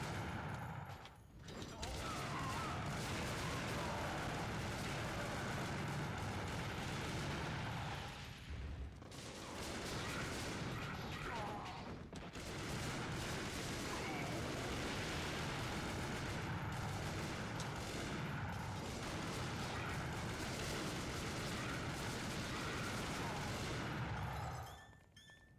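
Dense, sustained video game gunfire rattles almost nonstop, bursts of shots piling over one another with brief gaps before the racket resumes and cuts off near the end; some voice may sit faintly beneath.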